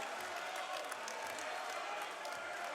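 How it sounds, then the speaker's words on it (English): Basketball arena crowd cheering and applauding after a dunk in a men's college game, a steady broad roar of many voices and clapping held at a fairly even level throughout. "And that brought some excitement out of this crowd"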